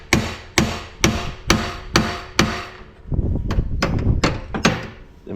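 A hammer pounds a pickle fork tool wedged into a motorcycle part during a double-reduction drive setup: about six loud, evenly spaced metallic strikes, then a quicker burst of heavier blows, close and without talk.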